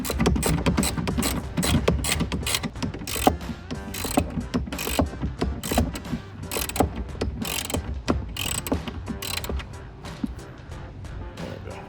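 A ratchet wrench with a 10 mm socket clicks rapidly and repeatedly while loosening a battery terminal nut on a Dodge Charger, loud and close, in quick bursts of ratcheting.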